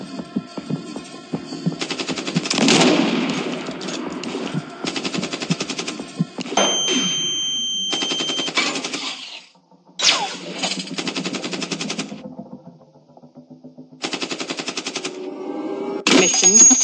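Gunfire in a 3D shooting video game: long, loud bursts of rapid automatic fire, with several stretches of several seconds each broken by brief pauses and a low engine-like hum underneath.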